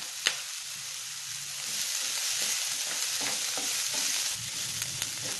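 Cashew nuts and ginger sautéing in a pan for a breakfast dish, a steady close sizzle with scattered scraping stirs and one sharp clink near the start, no voices.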